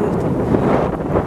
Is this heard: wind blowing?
yes